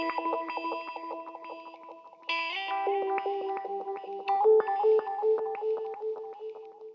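A Phantom Operator guitar effects pedal colours sustained guitar notes and chords with distortion and a shimmering, radio-like modulated tone, playing steadily with no voices.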